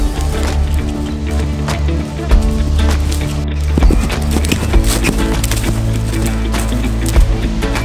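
A pony's hooves clip-clop in an uneven walking rhythm close by, with a whinny and some woody knocks mixed in, no one talking.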